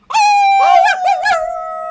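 A single drawn-out howl sweeps upward then wavers through several pitch bends before settling into a sustained tone, loud and close with nothing else around it.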